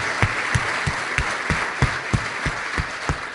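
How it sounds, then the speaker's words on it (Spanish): Conference attendees at a Latin American BIM congress applaud the speakers after a question round, with a broad wash of crowd clapping and a few sharp, evenly spaced louder claps cutting through. "les brindamos un fuerte aplauso"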